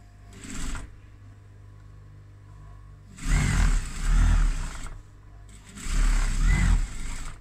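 A sewing machine runs in two loud, close bursts of top stitching on a fabric project bag, separated by quieter pauses with a low hum.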